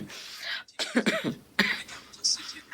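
A few short coughs and throat-clearing bursts from a person close by, spaced irregularly over a couple of seconds.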